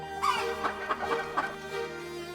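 A chicken clucks several times in quick, irregular bursts, fairly close, over a steady background hum.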